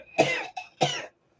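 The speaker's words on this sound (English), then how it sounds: "I made myself cough." A person forces a cough, producing two close, harsh bursts with a short catch between them, then silence.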